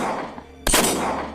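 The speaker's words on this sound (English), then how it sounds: "She hears 2 gunshots" A gunshot sounds in a true-crime reenactment, one sharp, loud, close blast that cuts through a low background and trails off into a short echo.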